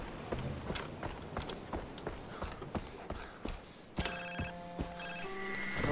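Mobile phone ringing in the video game Far Cry 3, a bright repeating electronic ringtone starting partway through over footsteps and ambient game noise, moderately loud.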